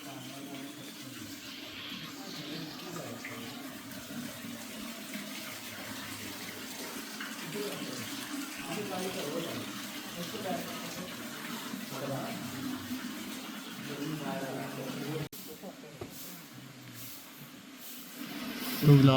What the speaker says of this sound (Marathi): बरोबर पाणी येते वरून येते